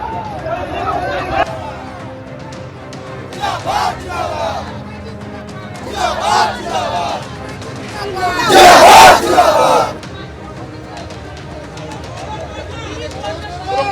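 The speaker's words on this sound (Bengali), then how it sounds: "বিক্ষোভ এবং পাল্টা বিক্ষোভে ধস্তাধস্তির পরিস্থিতি তৈরি হয়" Protesters and counter-protesters shouting and scuffling at a fire site: bursts of loud crowd yelling rise and fall over a steady hubbub, peaking in one intense roar near the end.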